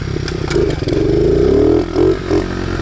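A small pit bike engine revs up and holds a high, rising whine before dropping and surging again, loud and close, stuck revving without throttle input.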